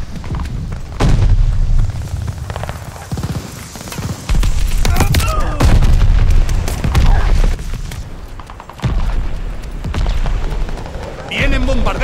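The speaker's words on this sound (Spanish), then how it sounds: "¡De artillería enemiga!" Enemy artillery shells pound the ground in the Call of Duty Vanguard video game as a run of heavy, booming explosions and rumbling impacts. Spoken callouts play over the din.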